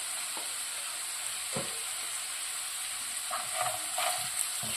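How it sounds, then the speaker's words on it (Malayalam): Garlic, ginger and green chilli sauté in a pan for a Kerala-style beef pickle, a loud, dense, continuous sizzle with a few soft stirring scrapes near the end and no voices. "നമുക്ക് അതിന്റെ പച്ചമുളക് മാറുന്നത് വരെ നല്ലപോലെ ഒന്ന് വഴറ്റി കൊടുക്കാം"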